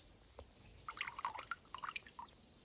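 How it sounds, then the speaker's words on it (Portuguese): Spring water trickles and drips from a small spout near the source of the Tietê River in São Paulo, a quiet, irregular patter of droplets close by with no talking. "Aí tem essa biquinha, que também brota água."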